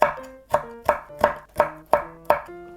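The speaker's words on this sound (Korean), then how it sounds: "홍고추도 씨 제거하시고 송송 썰어주세요 이렇게 가늘게 이렇게 채썰어주시면 돼요" A knife slices a red chili thinly on a cutting board, making seven evenly spaced, crisp, resonant chops in a steady rhythm with no talking.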